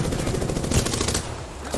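Rapid automatic gunfire in the battle royale shooter Apex Legends, a dense, loud, close rattle of shots continuing steadily through the short burst.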